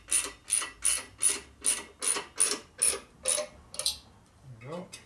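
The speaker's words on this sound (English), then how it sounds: "And I'm not tightening it very tight, just enough to put pressure on it." Tapered screws are tightened into a 1958–1960 Harley-Davidson panhead cylinder head, giving about ten even, rhythmic rasping ratchet strokes close up, followed by a brief clatter and a faint low voice.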